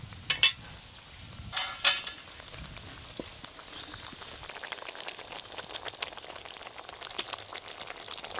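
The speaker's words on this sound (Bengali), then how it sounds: "এই দেখুন কি সুন্দর গুটগুট করে ফুটছে।" Soybean omelette curry boils gently in a pot with soft, faint bubbling and simmering, broken by a few sharp utensil clinks near the start, with no talk.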